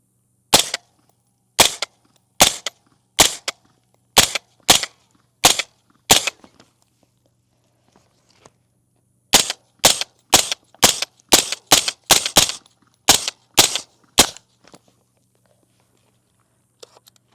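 Suppressed 10.5-inch ADM AR15 rifle firing outdoors, two strings of sharp, evenly spaced shots, about eight and then about twelve, separated by a pause of roughly three seconds, close and fairly loud, with no talking.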